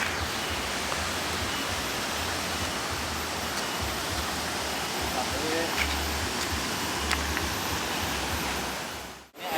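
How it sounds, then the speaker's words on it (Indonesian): Steady rushing of a rain-season river running high, a broad constant wash of noise, close and fairly loud, ending in a sudden bump. "Sungai, ya, ada sungai. Kebetulan sekarang musim hujan, jadi agak besar airnya,"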